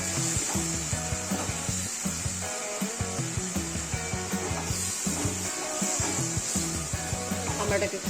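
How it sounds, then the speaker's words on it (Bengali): Raw amra fried with mustard paste and a little water in a pan, with a steady sizzle and scraping stirs sounding close and continuous, and faint background music underneath. "আমড়াটাকে একটু কষিয়ে নেব।"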